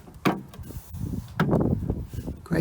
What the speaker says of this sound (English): Gently push it in and you'll hear it all just pop in nicely.